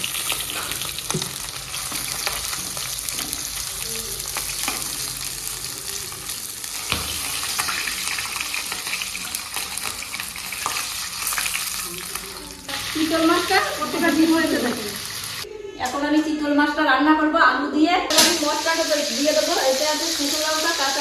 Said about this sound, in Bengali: মাছটা ভাজা হয়ে গেছে এখন তুলে দেবো